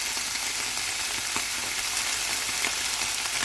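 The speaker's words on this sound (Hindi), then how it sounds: "इसको 1 मिनट के लिए सौटे करेंगे" Chicken Manchurian sautés over high heat in a pan, a loud, continuous close sizzle and hiss of frying with faint stirring scrapes and no voices.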